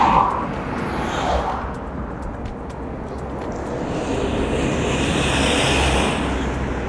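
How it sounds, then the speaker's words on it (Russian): Steady wash of traffic passing along the busy Oktyabrskaya embankment beside a St Petersburg residential complex, a continuous broadband roar of cars and tyres that swells and eases as vehicles go by, heard from nearby with no talk. "Шум от проезжающих машин"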